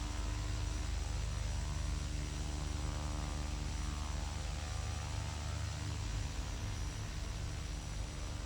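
A King Air 200 turboprop engine drones loudly and steadily during a prop governor test, a dense low hum with propeller tones that holds without pause and no talk over it.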